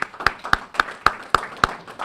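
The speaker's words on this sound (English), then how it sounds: "I think we should really give them a round of applause" Slow, evenly spaced hand claps ring out about seven times at a public health gathering, each sharp and distinct with quiet gaps between, sounding more like a few people clapping in rhythm than a full crowd.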